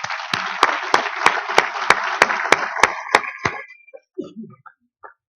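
An audience claps for event organizers, the applause loud and steady at first, then thinning to scattered claps and fading out, with a few faint voices near the end.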